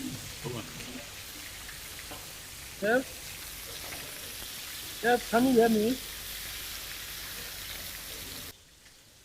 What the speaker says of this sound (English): I'm going to start frying my chicken on the skin side